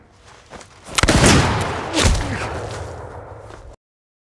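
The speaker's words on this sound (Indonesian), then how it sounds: "Di mana dalam tembakan kedua, John terkena di bagian pundak, sedangkan Ken di bagian samping perutnya" Two sharp gunshots ring out about a second apart in a John Wick film duel, each loud crack trailing into a long booming echo before cutting to silence.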